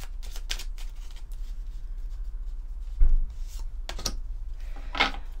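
A deck of oracle cards is shuffled close by, with quick papery riffles and slides and a couple of firmer taps and flutters.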